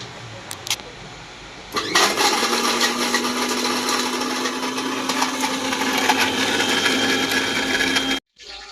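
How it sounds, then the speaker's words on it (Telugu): A mixer grinder blends grated coconut with a little water for coconut milk, starting abruptly into a loud, steady whirring grind with a constant motor tone, close by, then cutting off. "ప్రస్తుతానికి అయితే మొత్తం మిక్సీ పట్టేస్తాను."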